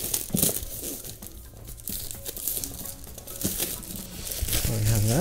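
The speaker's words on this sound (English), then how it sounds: "the first thing that we'll do is probably take out this outer plastic over here" Plastic wrap being peeled and crumpled off the box of a 2013 13-inch MacBook Pro Retina, close crinkling and tearing rustles running steadily throughout, loudest toward the end.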